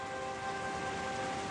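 Heavy rain pours down in southern Texas, a constant, thick, even roar of falling water with faint steady tones underneath.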